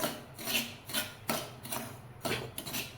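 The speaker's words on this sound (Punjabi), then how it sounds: "ਹੁਣ ਇਹਨੂੰ ਆਪਾਂ ਕਰਾਂਗੇ ਡਰਾਈ ਰੋਸਟ ਹਲਕਾ ਹਲਕਾ ਜਿਹਾ ਡਰਾਈ ਰੋਸਟ ਕਰ ਲੈਣਾ" Semolina being dry roasted in a pan for khoya barfi gives off a dry scraping, rasping stir in repeated strokes, close up and moderately loud, with no talk.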